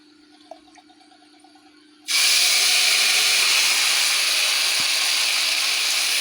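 Ginger and green chili paste hits hot oil with a sudden loud hiss, then fries in a steady, dense sizzle that stays strong for several seconds.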